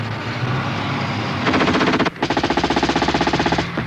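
Automatic weapons fire in a 1983 British Army training scenario: a loud, steady roar gives way to a rapid, evenly spaced machine-gun burst of about twenty-five close shots lasting nearly two seconds.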